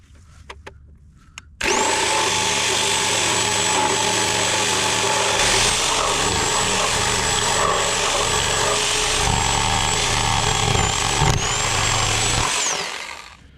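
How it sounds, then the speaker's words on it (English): Sawzall reciprocating saw cutting through a board in an old shed being turned into a shop: a loud, steady buzzing cut of about eleven seconds that stops abruptly, heard close with no talk. "I cut that board so perfect with the Sawzall"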